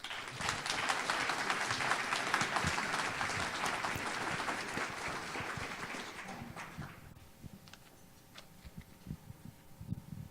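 Audience applause welcoming the Mayor of Sammamish, Tom Vance, at the SAMMI Awards ceremony: steady, dense clapping from a sizeable crowd for about seven seconds, then thinning to scattered claps and quiet room noise.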